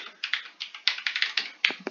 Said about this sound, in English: And then I can continue typing in.